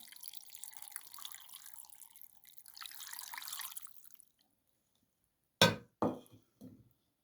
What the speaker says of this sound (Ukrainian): Додаю воду так, щоб покрила рибу.